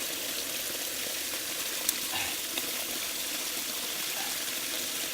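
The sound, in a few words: spring water flowing out of a fountain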